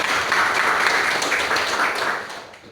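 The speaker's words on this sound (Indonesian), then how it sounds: "berikan tepuk kepada kawan kita." Students in a high school classroom applauding a classmate: a dense, loud wash of clapping that fills the space evenly, then fades out over the last half second.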